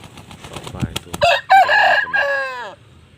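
A white rooster of the Burmese fighting breed crows once loud and close, a rising harmonic call that holds then falls away, after a few short clucks.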